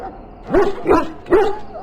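A dog in Dragon Age: Origins gives three short, close barks spaced about half a second apart, each a sharp yelp with a slight whining edge over a soft background hum.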